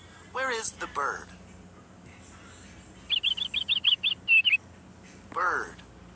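Bright synthetic chirps from a toddler animal picture book come in a quick run of about eight tweets, clear and close, with a child's and an adult's voices talking before and after.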